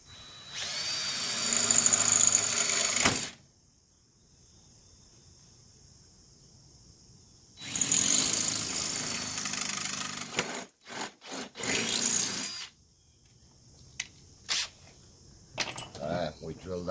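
A drill bores pilot holes in wood while pontoons are being built on a jon boat, in loud, close, sustained whirring runs separated by pauses and short bursts.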